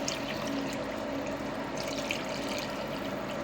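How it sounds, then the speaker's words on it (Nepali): Cold water runs over freshly strained paneer curds in a steady, close rush of splashing and trickling that continues without pause. "छानिसकेपछि यसलाई फेरि चिसो पानीले धुनुपर्ने हुन्छ।"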